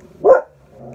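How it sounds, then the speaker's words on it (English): A single short dog bark, fairly close and loud, followed by quiet background. "somebody's walking by and the dogs are barking at him."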